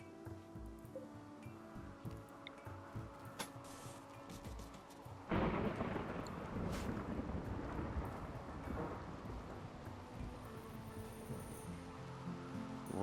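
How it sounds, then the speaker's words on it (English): A rainy thunderstorm in a video game: quiet ambience gives way to a sudden loud crack and sustained rumbling roar of heavy rain continuing to the end, no talk. "Rainy thunderstorm"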